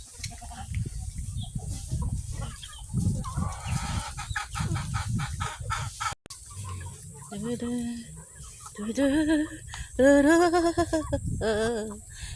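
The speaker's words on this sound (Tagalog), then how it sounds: "Ang mga manok ni William." Chickens cluck and a rooster calls in bursts, close by, with people talking over parts of it.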